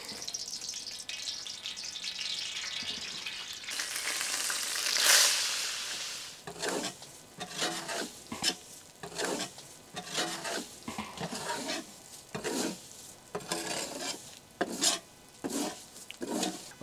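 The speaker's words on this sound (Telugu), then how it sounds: "ముందుగా మనం వీటన్నిటిని ప్యాన్ మీద స్వచ్ఛమైన నెయ్యి యాడ్ చేసి అన్నిటినీ ఫ్రై చేసుకుందాం" Almonds, pistachios and other nuts frying in pure ghee in a pan for Hyderabadi sheer khurma, a soft sizzle under repeated scraping and stirring strokes, with a brief louder hiss partway through.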